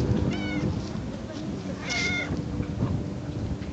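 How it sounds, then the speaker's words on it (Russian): A white cat meows outside a shop in the street, with a couple of clear calls rising above heavy rumbling outdoor noise. "белый кот охраняет магазин"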